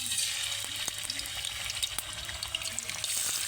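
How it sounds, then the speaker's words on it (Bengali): Marinated chicken pieces go into hot oil for a chicken roast, setting off a loud, dense sizzle with a few sharp pops and splutters as pieces hit the pan. "তেলটা গরম হয়ে গেছে এখন আমরা একে একে চিকেনটা দিয়ে দেব"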